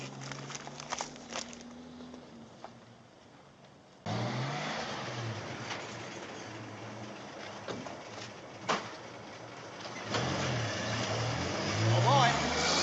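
A newspaper delivery truck drives nearby, its engine a low, steady drone that grows louder and rougher partway through, with footsteps and occasional knocks mixed in.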